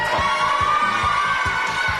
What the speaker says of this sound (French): je propose pour le public qu'on les applaudisse tous les 4